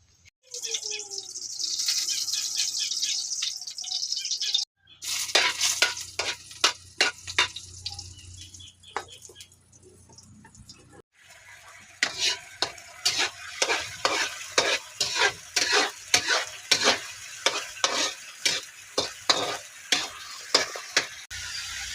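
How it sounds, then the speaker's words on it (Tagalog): Chopsuey with sardines and garlic is fried in a wok, with a steady sizzle under repeated scraping and clattering stirs that grow into a rhythmic series of close, loud strokes. Water runs briefly partway through. "magsugod na og luto unya nagtungtong na pud og kalaha"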